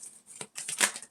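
A tarot card deck is shuffled close by, with quick papery riffling bursts and soft flicks that come in uneven spurts over about a second.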